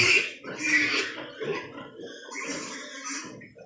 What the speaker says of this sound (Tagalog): Sampung biik.